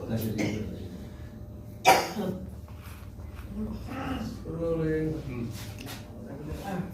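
A single sharp cough stands out nearby, with people talking quietly around it before and after.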